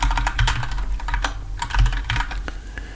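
Markdown being typed on a computer keyboard: close, brisk clicking keystrokes in uneven bursts with short pauses, heard alone.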